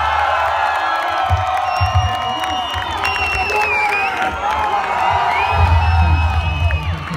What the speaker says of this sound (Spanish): Damas y caballeros, quiero que recibamos con un muy fuerte aplauso